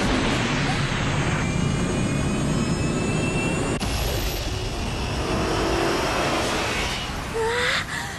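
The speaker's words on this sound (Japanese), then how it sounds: "プラズマエンジンスタート。" The plasma engine of an F-Zero racing machine, the Dragon Bird, starting up in the anime F-Zero The Legend of Falcon, a loud, continuous jet-like roar with a rising whine that fills the scene close by.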